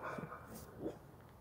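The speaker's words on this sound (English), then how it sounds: "Oh, dogs, please stop." Dogs bark and whimper in a short burst, a couple of yips and soft whines at moderate distance, fairly faint and set against a low room background.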